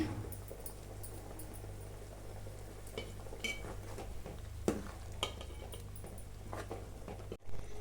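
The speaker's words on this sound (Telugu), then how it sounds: "ఓ 10 నిమిషాలు ఇలా హై ఫ్లేమ్లో బాయిల్ అవ్వనివ్వాలండి" Chicken serva, a Karnataka-style chicken curry, boiling on high flame in a pot, giving a steady low bubbling and sizzling with occasional stirring clinks, close and fairly quiet, no talking.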